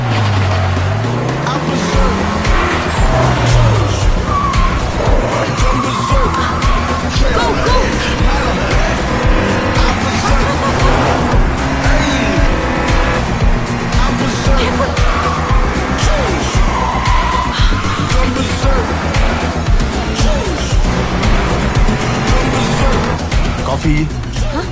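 Racing cars roar past and overtake with tires squealing, loud and continuous throughout, with voices speaking over the engine noise.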